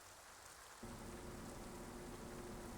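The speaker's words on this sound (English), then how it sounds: "I hear the soft hiss of the rain falling outside." Soft rain falls outside in the visual novel game Tsukihime, a steady, faint hiss that thickens after a moment into a continuous wash with a low hum beneath, with no talk.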